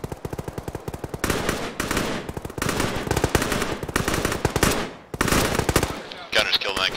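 Rapid bursts of machine gun fire from helicopter door gunners in a military game, loud and close, running in long dense volleys with brief gaps and a short break near the end.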